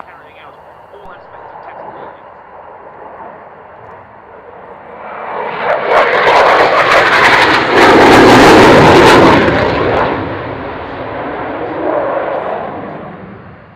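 A jet makes a slow pass at the Royal International Air Tattoo with undercarriage down and air brake out, its engine roar swelling from a distant rumble to a loud close peak before fading, while an announcer talks over it.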